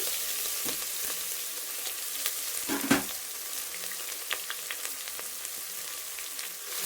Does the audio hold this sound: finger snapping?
no